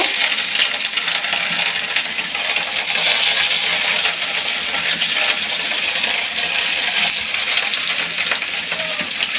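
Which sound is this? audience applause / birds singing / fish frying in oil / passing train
fish frying in oil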